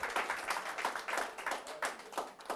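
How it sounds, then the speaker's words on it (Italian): Applause from a television studio audience, a dense crackle of many hands with rhythmic swells, moderately loud and close, lasting a couple of seconds with no talk over it. "Fate un applauso"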